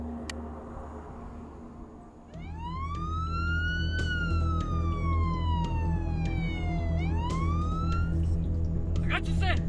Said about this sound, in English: Hit your lights and sirens, we'll be right behind you.